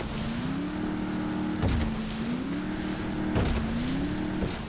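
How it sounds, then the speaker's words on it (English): A speedboat engine at high RPM in GTA 5, a continuous droning whine that rises and dips in a repeating cycle, with thumps of the hull hitting water, steady and loud. "it's just a normal boat sound in the game, but I don't know, if these high RPMs, it's pretty fun"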